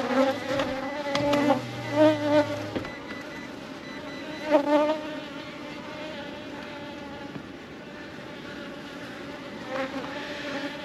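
Honey bees buzzing around a somewhat aggressive hive near a hawthorn tree, a dense steady drone with individual bees whining past the microphone, close and continuous with no talking.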